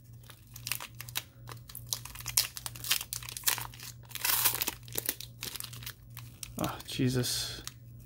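Packing tape being torn and peeled off a mail package of trading cards, with rapid crinkling, ripping and crunching bursts close to the microphone, and a person briefly speaking.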